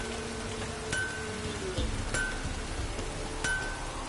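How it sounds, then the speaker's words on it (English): Steady rain downpour in the Witcher 3 video game, a dense even hiss with occasional brief clinks and a few faint tonal chimes over the top. "Midges were biting on account of this downpour."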